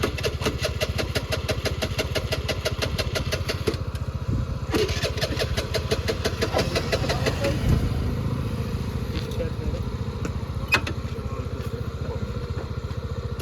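A motorcycle on a trip toward Rajgad fort is kick-started and its engine fires into a steady, close, rapid idle that runs throughout, with voices talking over it.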